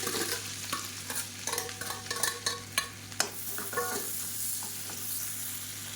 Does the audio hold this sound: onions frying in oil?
yes